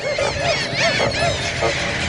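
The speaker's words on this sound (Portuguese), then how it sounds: "Em algumas noites, são 30 mil aves." A huge flock of birds gathered at night on Corumbá international airport in the Pantanal, Brazil, produces a dense, continuous chorus of overlapping honking, goose-like calls, loud and close, with no voices.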